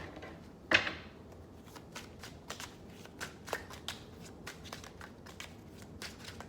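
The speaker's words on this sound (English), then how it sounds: "So let's get some Rebel deck cards for you." A tarot deck is shuffled softly and close by: one sharp riffle near the start, then a scatter of light card flicks and taps in a quiet room.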